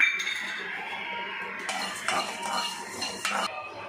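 A spoon scrapes and clinks in a pan while coriander seeds roast dry with a cinnamon stick and cloves for a Rayalaseema masala, a steady close stirring with a few sharper knocks against the metal.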